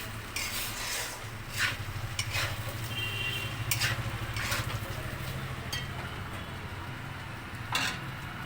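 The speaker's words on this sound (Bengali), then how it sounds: "সব ভাজা সবজিগুলোকে দিয়ে দিলাম দিয়ে একসাথে মিশিয়ে নিচ্ছি" A spoon stirs fried mixed vegetables into rice-and-lentil khichuri in a pot, giving soft scraping and clinking with faint sizzling, steady and close throughout with a low hum underneath.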